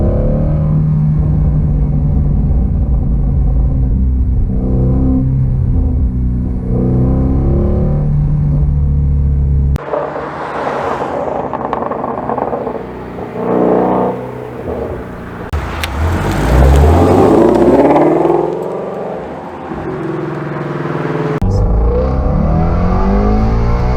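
A Shelby's engine revs hard under launch control, a loud, close rumble that builds and surges in waves, with sharp rising pitch sweeps as it accelerates away.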